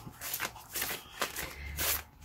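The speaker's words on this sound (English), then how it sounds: "I'm going to select one by shuffling." A pile of postcards made from gel prints being shuffled by hand, a series of soft, papery riffling bursts in quick irregular succession, close and quiet with no one talking.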